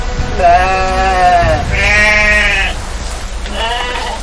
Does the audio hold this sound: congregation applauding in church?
no